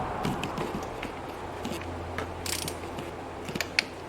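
Ratchet wrench tightening a bolt on the throttle body of a 2007 Nissan Versa, with soft mechanical clicks and small metallic ticks repeating irregularly, close and fairly quiet against steady workshop background.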